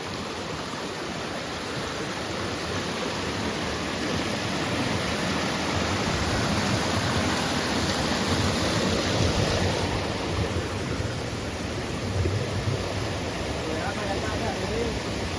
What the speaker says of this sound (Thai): เป็นน้ำตกเลยนะ น้ำตกน้ำตกสวยเลยนะ